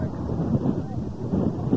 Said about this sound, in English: kind of cold, huh? Yeah. Little windy.